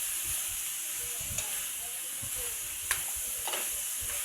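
String beans and eggplant stir-fried for adobo give off a steady, close sizzle and hiss, with a few sharp scrapes and clicks as the vegetables are tossed and mixed.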